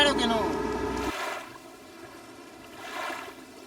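A fishing boat off Peru in the Humboldt ocean current: its motor rumbles for about a second, then cuts off abruptly, leaving the quiet wash of water and wind while the boat drifts, with a faint voice nearby.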